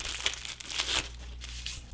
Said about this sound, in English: simply remove it from its plastic bag.